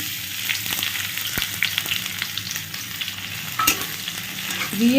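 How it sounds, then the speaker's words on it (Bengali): Finely chopped onions hit hot oil in a pan, a steady dense sizzle with crackles and stirring scrapes, close and continuous with no talking. "আর তেলটা আমার গরম হয়ে গেছে, এবার এর মধ্যে কি করব, এই যে কুচানো পেঁয়াজটা, একদম ঝিরিঝিরি করে কোচানো পেঁয়াজটা দিয়ে দিচ্ছি"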